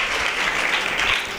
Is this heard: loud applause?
yes